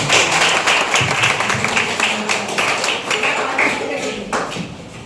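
An audience of children and parents claps at an indoor school sports fest, a dense, steady round of applause with scattered sharp claps. A faint voice runs under it.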